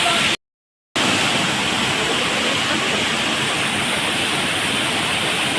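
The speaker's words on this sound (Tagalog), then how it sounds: "Here in Kasabangan Falls, Sao Falls." Kasabangan Falls on Biliran Island pours with a dense, constant hiss of falling water, loud and close, briefly cut to silence near the start before the steady rush resumes.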